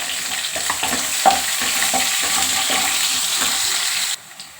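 Onion sizzles in a pan with mustard seeds and dry red chillies for bottle gourd curry, a steady close hiss with light stirring scrapes that cuts off abruptly near the end.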